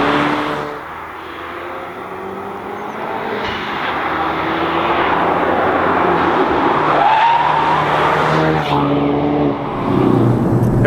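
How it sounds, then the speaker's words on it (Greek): A 2016 Ford Focus RS drifting on a track, its engine roaring loud and steady while the tires skid and squeal throughout, with no voices over the noise. "Όταν λέμε drift, το εννοούμε όπως το WRC, με πολλά χιλιόμετρα, με το τιμόνι σχεδόν ευθεία και το αυτοκίνητο να περιστρέφεται γύρω από τον εμπρός εσωτερικό τροχό"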